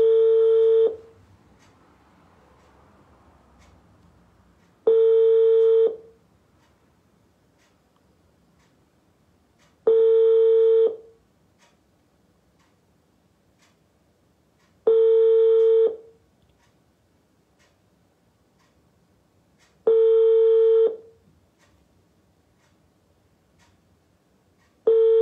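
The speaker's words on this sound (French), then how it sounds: "maintenant je l'appelle, elle ne répond plus." An unanswered phone call rings out: six evenly spaced ringback tones, each about a second long with roughly four seconds of near-silence between them, clear and steady with no voice picking up.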